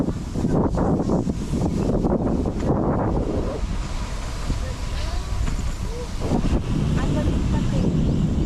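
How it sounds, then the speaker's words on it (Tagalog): Breezy open-air wind at Jumeirah Islands, Dubai, a steady broadband rush with gusty swells, while people chat nearby at first and then more quietly. "Iba yung hangin dito, ano? Presko."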